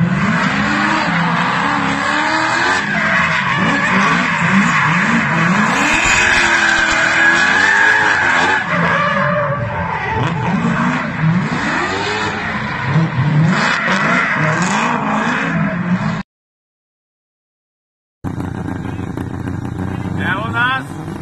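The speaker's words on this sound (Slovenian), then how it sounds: "Zdaj se preganja Mustang, tisti Cabrio, vse se sliši." A Ford Mustang convertible in gymkhana driving revs hard and skids with squealing tires, loud and close, its engine note rising and falling repeatedly, with a brief silent gap before the noise resumes.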